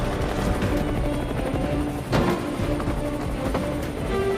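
An Indian Air Force resupply helicopter works over a high-altitude Siachen drop zone, its rotor and engine roaring steadily and close, with a sharp thud or crack near the middle and no talk.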